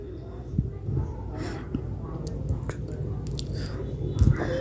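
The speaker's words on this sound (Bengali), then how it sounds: "একটু নেড়ে চেড়ে ভালো করে গ্রেভির সঙ্গে মিশিয়ে নেব।" Garam masala being stirred into a yogurt fish gravy made with rui fish, soft close squelching and wet scraping with a few sharper clicks against the pan, over a low steady background hum.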